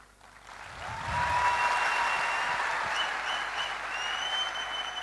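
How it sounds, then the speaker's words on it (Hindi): An audience applauds, the clapping swelling after a brief quiet start into a steady, full round of applause that holds and then slowly eases, with faint tonal notes threading through it. "वो तालियां बजे तो पूरी बजाना,"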